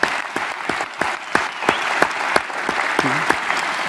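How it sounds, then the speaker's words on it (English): A conference audience at an education summit debate applauds its panelists: a moderate wash of crowd clapping with a few sharper, close individual claps standing out throughout, and a brief voice murmuring beneath. "I'd like to invite you with me to applaud our panelists."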